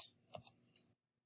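A few quick, light key clicks on a computer keyboard as a function is typed in, close and crisp, trailing into silence.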